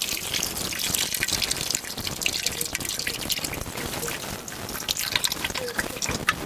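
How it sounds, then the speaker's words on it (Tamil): Tamarind water pours and splashes steadily into a pot for fish curry, a continuous watery trickle with small drips, fairly close. "புளி தண்ணி ஊற்றிக்கலாம்."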